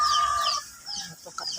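Young chickens recently separated from the mother hen cluck and chirp at close range on a farm in hot weather, a few short calls with a higher cheeping start and scattered softer clucks.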